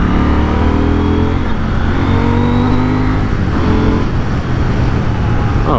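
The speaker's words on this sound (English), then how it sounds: "So I'm on a KTM Duke 790. Going on a little test drive." A KTM Duke 790 motorcycle on a test ride gives a loud, close engine drone, with rising and falling revs as it accelerates and shifts, steady throughout with wind noise.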